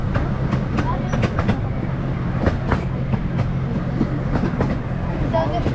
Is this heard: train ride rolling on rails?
yes